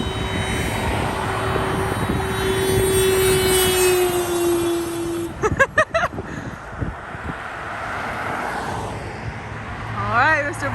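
A car passes by outdoors, its engine tone holding steady and then dropping in pitch as it goes past, followed by clattering bumps and some wind, with people talking near the end.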